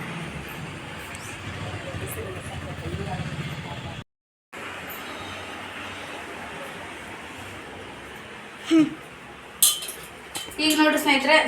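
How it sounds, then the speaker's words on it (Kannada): Cooking pots and pans are scrubbed at home, with a steady scrubbing rasp, a brief dropout, and then sharp metallic clinks and clanks of vessels near the end as voices talk nearby. "ಫಸ್ಟ್ ಬಾಂಡೆ ತಿಕ್ಕೊಂಬರ್ತೀನಿ ರೀ"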